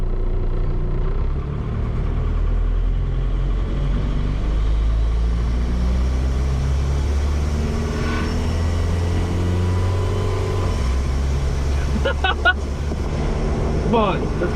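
A diesel-swapped Jeep TJ Wrangler with a Ford 6R80 transmission drives along, its engine droning steadily and the pitch dropping as it shifts gears, heard from inside the cab under road noise.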